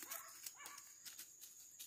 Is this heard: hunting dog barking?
yes